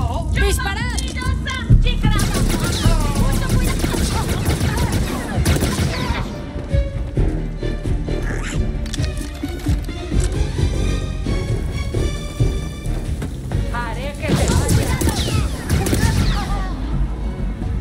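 Rapid blaster and gunfire from the Star Wars Outlaws game crackles in dense, loud bursts and volleys, with short lulls between them and constant clatter across the whole stretch.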